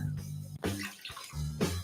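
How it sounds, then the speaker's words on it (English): Yellow Mountain Dew pours into another bowl with a steady splashing gush of liquid, briefly pausing in the middle before pouring again, close and clear with no speech. "So I just want to pour some in another bowl."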